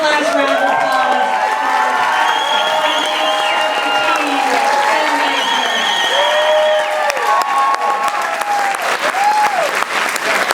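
A graduation audience at a performing arts school ceremony gives a loud, sustained round of applause mixed with cheering and whoops, steady and close throughout.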